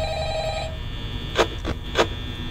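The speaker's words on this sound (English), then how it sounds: "What I'm trying to figure out is how to answer the friggin' phone!" A telephone rings in the Five Nights at Freddy's video game, with three short, fairly loud ringing bursts spaced evenly against a low background hum.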